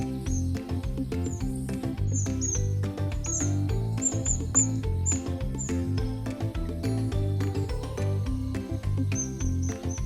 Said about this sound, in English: The black-rumped waxbill is known for its lively chirping and chatter.